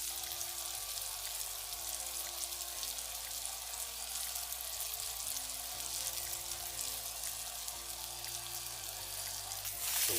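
Shishito peppers sizzle and caramelize in a pan, a steady, hissing fry with faint crackling that holds evenly, with low musical tones underneath and a slight rise at the very end.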